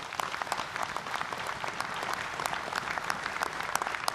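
At the Armed Forces Day anniversary ceremony at Gyeryongdae, Chungnam, a large gathering gives sustained applause, a thick, steady roar of clapping with crisp individual claps popping through, heard from a distance without speech.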